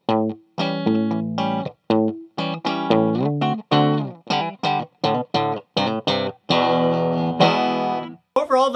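A thinner, twangy 2019 Gibson SG Modern electric guitar on a coil-split bridge pickup plays a choppy run of short chords and notes, with brief gaps between strums, ending in a longer ringing chord.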